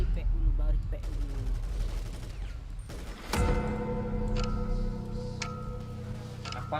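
Gunfire in a zombie video game crackles in scattered bursts and single shots, followed by a sharp mechanical clank and ringing tones, with voices talking throughout.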